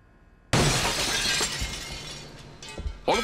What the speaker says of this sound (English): I hear the most horrible sound of glass breaking and crashing